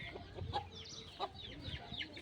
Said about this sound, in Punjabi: ਇਹਨਾਂ ਲਈ ਆ ਮੁਰਗੀ ਚੰਨੋ